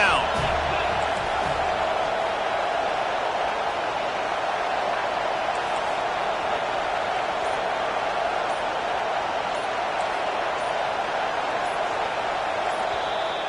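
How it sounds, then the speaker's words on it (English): Crowd roar at a college football game in the NCAA 25 video game as the defense lines up on third down, a steady, loud wash of broadband noise that holds evenly throughout with no clear breaks. "Decibels rising as the crowd gets behind this defense on third down."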